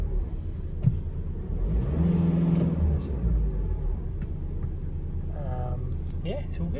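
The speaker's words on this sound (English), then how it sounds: "You rev it, there's no strange noises." The 2.0L diesel engine of a 2015 VW Crafter long-wheelbase panel van runs with a steady low rumble and swells briefly as it is revved. A voice is heard faintly near the end.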